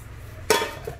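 A large aluminium pot, Japanese-made with slightly chipped enamel, gives a single sharp metallic clank as it is handled, then a faint ringing tail and a softer second knock.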